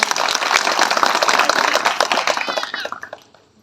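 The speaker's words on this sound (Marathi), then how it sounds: "कष्ट आमचे राहुल कांबळे दादा यांनी घेतले आहे, तर त्यांच्यासाठी टाळ्या झाल्याच पाहिजे." Guests at a Babasaheb Ambedkar Jayanti gathering in Yavatmal clap for the organizer, brisk crowded applause that stays fairly loud for a few seconds before thinning out and fading toward the end.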